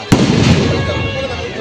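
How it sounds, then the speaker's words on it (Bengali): Firecrackers go off at a wedding: one sharp, loud bang followed by a rolling, crackling roar that fades over about a second, with voices mixed in. "এবারে বাজিও ফাটছে"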